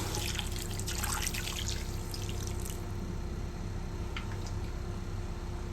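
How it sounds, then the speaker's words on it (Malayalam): Water pouring steadily into a pot of mutton head pieces, a continuous splashing rush with a few drips near the end. "കുറച്ച് നമ്മൾ വെള്ളം ഒഴിച്ച് കൊടുക്കുന്നു"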